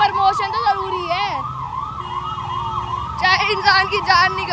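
An ambulance-style siren fitted on a Blinkit delivery vehicle in Delhi: loud, near wailing and yelping tones that rise and fall in quick cycles, with traffic noise beneath.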